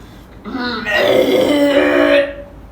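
A voice imitates a long, loud burp, a rough, drawn-out guttural croak lasting about two seconds, heard up close and alone.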